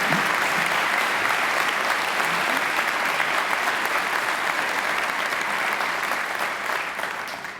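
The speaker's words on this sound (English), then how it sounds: "She deserves another great round of applause" Sustained, loud applause from a large crowd at a Macquarie University graduation ceremony, holding steady for several seconds before easing off slightly at the end.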